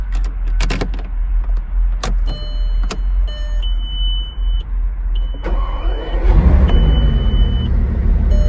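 A Bugatti Veyron, a 2000s supercar, heard from inside the cabin: soft clicks and electronic chimes, then the engine fires at about six seconds into a deep, steady rumble.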